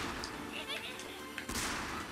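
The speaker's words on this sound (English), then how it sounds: "Arcane explosion!" Arcane explosion spell in the Magicka video game, a burst of crackling blast sounds with a louder hit about two-thirds through, over a busy game soundscape.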